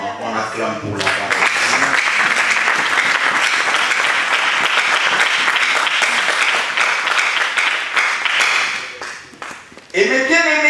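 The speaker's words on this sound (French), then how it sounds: "On acclame pour la parole." A church congregation claps and applauds loudly and steadily for about nine seconds, a dense sustained wash of hands that dips near the end, with a voice speaking briefly before and after.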